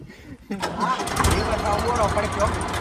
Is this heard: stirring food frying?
no